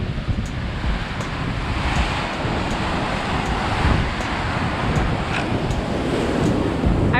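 Ocean surf breaking on rocks in Torres, southern Brazil, churns and rumbles close by, a continuous roar of breaking waves with gusts of wind buffeting the microphone.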